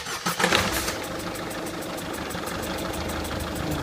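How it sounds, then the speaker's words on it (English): A Citroen Picasso 1.6 diesel engine cranks on a newly fitted starter motor and catches, settling quickly into a steady, close idle. "Start the vehicle,"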